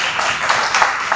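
An audience claps together in a short, dense burst of applause, close and fairly loud, lasting only about a second.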